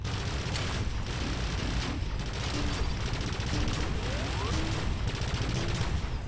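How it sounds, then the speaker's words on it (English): Machine gun fire in the SPT game rattles on as a dense, continuous volley of rapid shots, loud and close, with no voices heard. "Machine gun upgrade."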